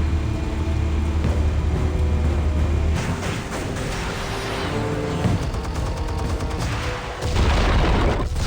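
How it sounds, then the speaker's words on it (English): Explosives go off in the Batman Telltale Series, with heavy booming blasts and rumbling debris that swell loud near the start and again at the end over a constant low roar. "Explosives armed. Fire when ready."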